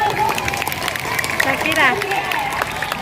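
Classroom applause for students during a teachers' positive-culture presentation at a junior high school, a brief burst of clapping from a group mixed with chatter and a voice over it.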